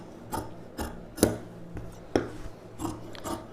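Scissors snip through blouse fabric during tailoring of a pa-neck blouse, a handful of separate crisp cuts spaced irregularly, fairly close and moderate in volume, with no talk.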